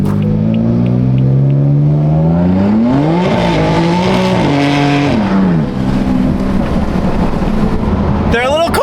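A BMW M4 on freshly fitted wheels pulls away around a city block, its engine note climbing loudly through the gears with shifts and a faint tire squeal, while voices talk inside the car.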